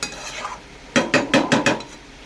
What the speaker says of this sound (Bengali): নেড়ে চেড়ে নেবো আবার নেড়ে চেড়ে নেবো কষে নেবো এইভাবে পটল আলুতে কষে নেবো